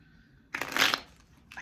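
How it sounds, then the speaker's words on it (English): Tarot cards get a brief riffle shuffle, one soft, close burst of flicking paper lasting under half a second in an otherwise quiet room. "Perfect shuffle."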